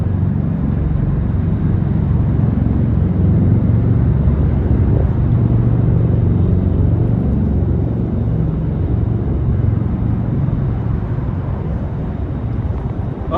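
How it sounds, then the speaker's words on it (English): An Osprey tiltrotor aircraft passes over New York City near the Brooklyn and Manhattan bridges, a loud, continuous low rumble that holds steady before easing slightly at the end. "There's the Osprey, everyone."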